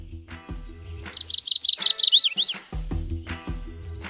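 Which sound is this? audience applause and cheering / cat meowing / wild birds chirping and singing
wild birds chirping and singing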